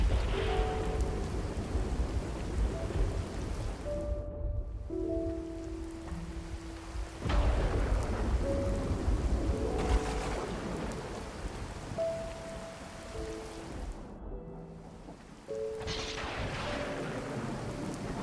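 Heavy rain pours steadily as a sound effect in a children's story, with low thunder rumbling and swelling beneath it. Some tonal music-like layers sit over the constant downpour, with no voices.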